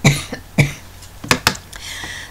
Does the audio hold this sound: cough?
yes